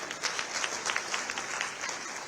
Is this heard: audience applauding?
yes